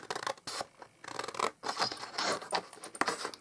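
Close, crisp scissors snip and scrape through paper in a quick series of cuts, with short pauses between strokes and no talking.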